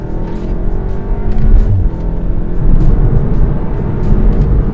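A stage 1 tuned VW Golf R with a DSG gearbox accelerates hard from about 4,000 RPM to 70 mph at 6,000 feet elevation, its engine roaring loud and steady with rising pitch and brief shift breaks, heard from inside the car.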